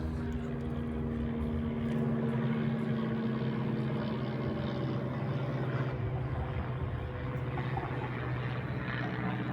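A small Cessna light aircraft drones steadily overhead with a low, even propeller hum, faint and distant, with no talking.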